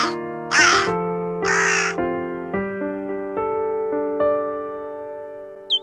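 Crows, jackdaws and magpies call in spring, loud harsh caws from nearby birds in bursts, with tonal chattering calls overlapping between them.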